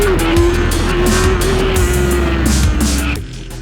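BMW S1000RR sport bike, a 2015 model, on a race track with its engine braking adjusted, loud close engine drone with a steady tone that drops in pitch as the bike decelerates, then fades near the end.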